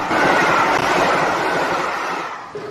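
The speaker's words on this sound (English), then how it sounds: "James speeds over the Tidmouth Dyke with a night train." A steam-hauled night train rushes over the Tidmouth Dyke, a loud, steady roar of rolling wagons and rail noise that holds close for most of the stretch before easing slightly at the end.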